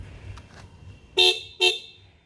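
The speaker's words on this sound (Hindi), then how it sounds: "it's a combination of 3 horns जो इसमें काम करता है" A Bajaj Avenger Cruise 220 motorcycle fitted with a combination of three horns sounds two short, loud, bright honks close by, after a couple of fainter toots over a quiet engine background.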